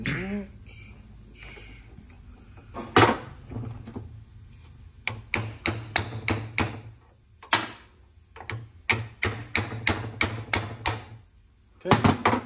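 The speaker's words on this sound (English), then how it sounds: "This bolt is kind of pressed into here, so you just hammer it until it comes in." Hammer blows drive a pressed-in LS rocker arm bolt while the part rests on a vise edge during a Gen 1 small-block Chevy rocker swap; a few strikes come first, then a long run of sharp, evenly spaced metallic hits, close and loud.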